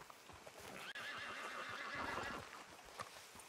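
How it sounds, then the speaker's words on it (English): Horse whinnies in the Red Dead Redemption 2 video game, a long wavering neigh over soft hoof clip-clops and outdoor ambience, moderately distant and fairly quiet. "Horse."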